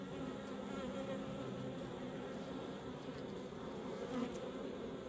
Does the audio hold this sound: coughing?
no